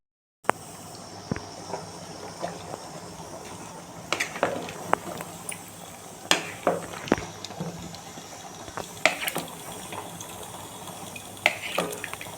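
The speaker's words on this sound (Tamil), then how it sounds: "நல்லா கொதிக்குது" Water heats on a stove in a pot for chicken dum biryani, giving faint, irregular bubbling and popping ticks over a low background hiss, with no talk.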